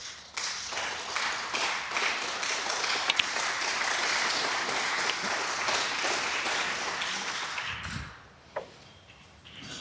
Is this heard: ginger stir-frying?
no